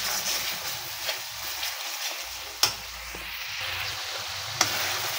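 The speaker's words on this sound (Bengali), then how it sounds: "মশলাগুলো খুব ভালোভাবে কষিয়ে নিয়েছি" Spices being fried for a village-style mutton bhuna, with coriander powder among them: a steady sizzle of frying in a pan, broken by a couple of sharp clicks from a spoon against the pot.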